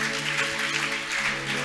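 A church congregation applauding, a sustained even patter of many hands over a steady tonal hum in the room, moderately loud and unbroken for the whole stretch.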